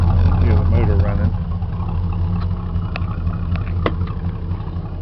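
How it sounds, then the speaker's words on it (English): Engine of a Chevy-chassis Class C motorhome idling steadily, a low continuous rumble heard from inside the cabin while a person talks over it. "Hear the motor running."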